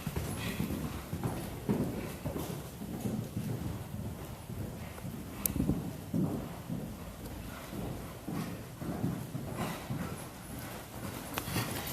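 A horse moves off under a rider in a riding lesson, its hooves clip-clopping in a steady walking rhythm at moderate distance, with quiet background talk and faint wind.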